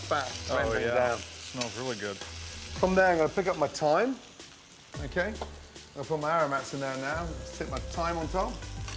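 Steak sizzles steadily in a frying pan, a continuous crackling hiss running beneath someone talking throughout.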